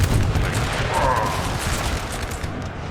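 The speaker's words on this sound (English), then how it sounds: "These are at least 18, 12 pounders shooting at me." Massed 12-pounder cannon fire in the video game Napoleon: Total War, a dense, loud, continuous rumble of overlapping booms and crackling blasts with no gaps.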